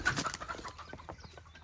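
Soft, irregular clucking and short calls from several chickens nearby, with a faint background hum.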